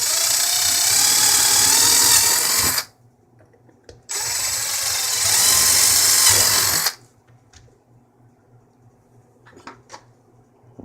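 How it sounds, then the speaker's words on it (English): A small drill bit boring little pilot holes while building a four-channel XLR audio snake, two loud sustained whirring bursts of about three seconds each, separated and followed by quiet pauses with faint handling clicks. "Now we take our small drill bit and drill little pilot holes for these wonderful little grooves."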